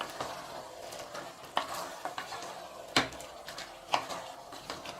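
Chicken being stirred in a pot for chicken biryani, soft scraping with several sharp clinks of a spoon against metal, a low sizzle underneath.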